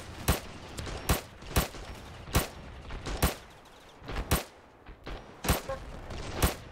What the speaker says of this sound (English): Got a fully semi-automatic weapon and I'm not afraid to use it.